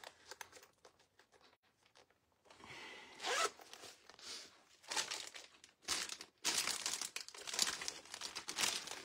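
Small zipper on the back pouch of a Western-style blingy handbag, opened in a string of quick rasping pulls with crinkly handling noise between, close and fairly quiet.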